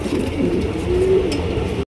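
Pigeons kept in cages, two pairs, give low cooing over a steady murmur of birds, with one longer drawn coo standing out midway before the sound cuts off abruptly near the end.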